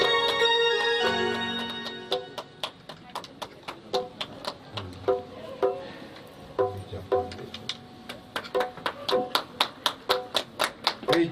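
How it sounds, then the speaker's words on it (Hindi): An audience at a Bhagavat Katha religious gathering claps to welcome guests, first scattered, then building into loud rhythmic clapping in unison with evenly spaced sharp beats, over some background voices or tones. "जोरदार तालियों से इनका अभिनंदन करें"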